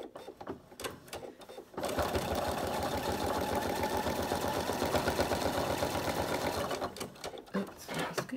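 Sewing machine stitching free-machine embroidery on a vintage caravan design, a steady fast mechanical whirr running for about five seconds after a few short starts and taps, then stopping into quieter handling noises.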